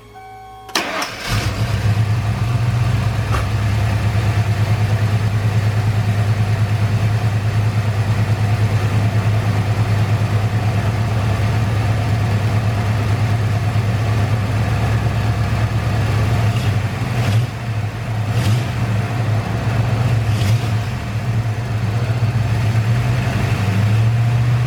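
A car engine with a broken spark plug cranks and catches, then idles loudly and steadily with a low rumble, occasionally faltering in a slight stumble.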